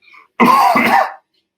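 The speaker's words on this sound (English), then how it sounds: "let me clear my throat." One short, loud throat clearing close to the microphone, after a faint breath and followed by silence.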